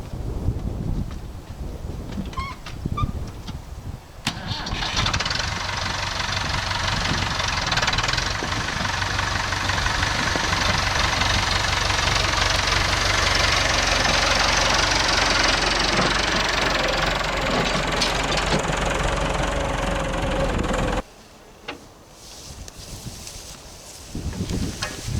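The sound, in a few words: tractor engine starting and idling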